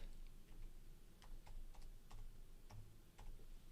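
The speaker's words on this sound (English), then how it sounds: "So she's typing in dog rescue." Quiet, irregular clicks from typing on a computer keyboard tap away over a low background hum, a few keystrokes at a time with short pauses.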